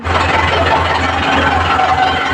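A tractor engine idles close by with a steady low, chugging rumble and no voices.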